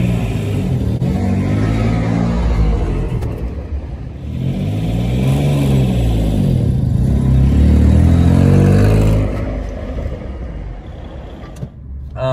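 A Citroen C1 fitted with a roof spoiler drives past, its small engine rising to a loud, close whir and rumble with a falling pitch sweep as it passes, then fading away.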